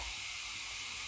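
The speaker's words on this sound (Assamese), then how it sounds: "আৰু এনেদৰে মই অলপ সময় এইখিনি ভাজিম।" Chicken marinated with garlic and ginger hisses steadily as it starts frying in a hot wok, a continuous broad sizzle close up with no talking.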